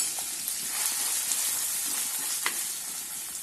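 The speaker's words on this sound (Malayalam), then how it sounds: "ഇനി ഇഞ്ചി വെളുത്തുള്ളി ചതച്ചത് ഇട്ട് കൊടുക്കാം" Crushed ginger and garlic fry in hot oil just after popped mustard seeds, a steady close sizzle with faint crackles and a couple of sharp pops.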